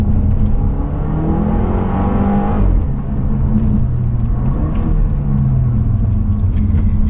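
A Volvo V60 Polestar's twin-charged engine, supercharged and turbocharged, revs hard and close up, a loud rising and falling roar with a deep rumble held steadily for several seconds; no one speaks.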